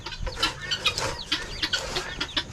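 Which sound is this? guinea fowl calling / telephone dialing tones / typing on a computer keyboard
guinea fowl calling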